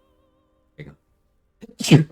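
A single sharp human sneeze, near and loud, comes after a short spoken phrase and a brief throat sound.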